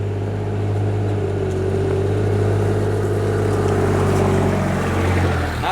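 A Kubota RTV 1100C diesel utility vehicle with hydrostatic transmission crawls downhill with the brake on, giving a steady low engine drone with a faint whine, close and continuous without speech.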